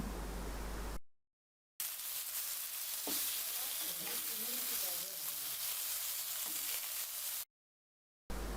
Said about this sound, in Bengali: এভাবে করে মাছের টুকরোগুলো ভেজে নিলাম